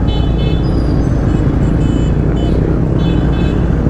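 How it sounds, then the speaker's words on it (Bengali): Vehicle horns toot repeatedly on a busy road at night during New Year celebrations in Malaysia, over a loud, constant roar of passing motorcycles and traffic. "কে রে শুধু হর্ন মারতেছে কেন"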